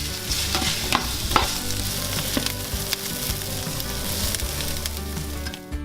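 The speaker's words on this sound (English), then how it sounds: "we're going to brown our onions in a frying pan for about 3 to 5 minutes until it's nice and golden brown" Onions browning in a frying pan give a continuous close sizzle with occasional stirring scrapes and clicks, steady and busy throughout with no talk.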